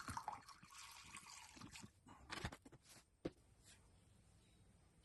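Water and CLR are poured and sloshed together for a soaking mix, heard as faint trickling and liquid splashes with a few clinks, close but quiet.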